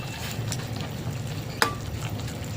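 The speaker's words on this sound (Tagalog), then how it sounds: "Ating haluin." Odong noodles with petchay stirred in a hot pan, a soft steady sizzle with faint scraping and one sharp utensil clink partway through.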